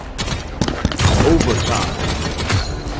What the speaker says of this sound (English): Enemies are firing at me.